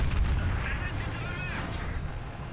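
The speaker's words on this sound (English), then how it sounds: "There's a lot of shooting going on around me." Tank gunfire in War Thunder, heavy booms and rumbling blasts around a WZ-141-1 tank, with a muffled low impact early and a continuous battlefield roar throughout.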